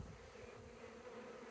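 Honeybees buzz around hive boxes left in place during a bee removal, a dense, steady hum of many insects close by with no voices.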